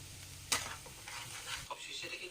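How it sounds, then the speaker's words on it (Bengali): Spice paste for rohu fish korma, containing nuts, sizzles softly in a pan while a spoon stirs and scrapes it, with a sharp clatter early on and gentle hissing throughout. "এখন আবার একটু সময় ভাজা ভাজা করব"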